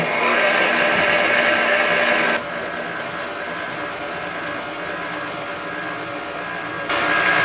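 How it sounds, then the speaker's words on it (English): A stand mixer with a dough hook runs at a mid speed setting, giving a steady motor whine and drone that works biscuit dough. The level drops briefly partway through and rises again at the end. "a dough hook is attached, and we're going to put this on a mid setting to get this glowing"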